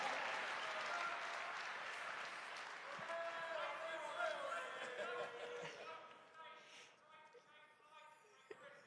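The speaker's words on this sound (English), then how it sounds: "give this man a round of applause to get this started for us" A large audience at a Bitcoin 2025 conference applauds and cheers in a dense, loud wash that slowly fades toward the end, with voices mixed in.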